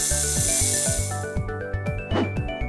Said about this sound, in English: The snake hisses.